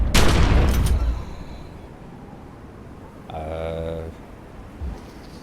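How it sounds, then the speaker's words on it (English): Gunfire in The Secret World video game, a dense burst of rapid shots at the start, followed by quieter game effects including a buzzing tone and a short thump near the end, without talk. "I'm gonna have to shoot it a few more times than that"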